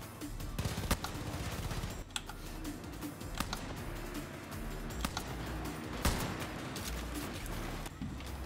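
Rapid clicking gunfire from a gun in Far Cry New Dawn, quick light shots in steady bursts at low volume, with no talking.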